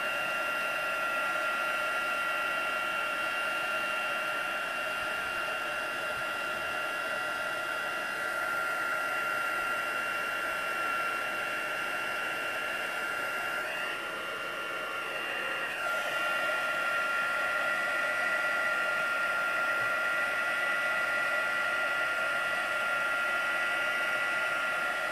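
A heat tool sets embossing powder for crafting with a continuous, even blowing hiss close by. It runs for the whole stretch with only a brief dip, and no voices are heard.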